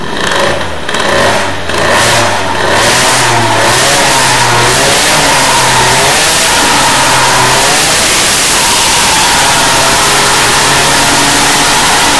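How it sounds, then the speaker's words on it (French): An Airsal T6 50cc engine with a Doppler cylinder head revs hard, the pitch rising in stepped throttle blips before holding a loud, buzzing high-rev drone, very close and dominant. "Allez, on va gazer un peu."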